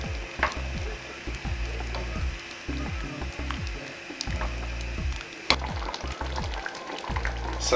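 A cabbage and potato stew cooks in a pot, giving a soft bubbling simmer with faint ticking and clicking sounds throughout, fairly quiet and with no voices.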